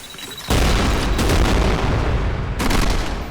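A B&T launcher converted into an explosive harpoon launcher fires in the video game Trepang², giving a loud, sustained booming blast that cuts in abruptly and then swells again with a second heavy burst near the end.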